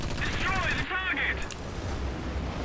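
Defensive machine guns on a TB-3M-17-32 bomber chatter in bursts during a War Thunder air battle, a steady loud rattle over engine drone, with talk running alongside.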